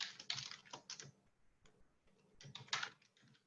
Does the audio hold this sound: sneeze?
no